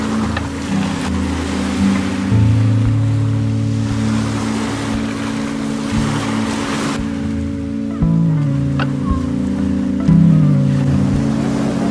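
Sea waves wash onto a beach at Scopello, Sicily, a steady broadband surge mixed with a continuous low engine drone from a nearby boat, with no voices.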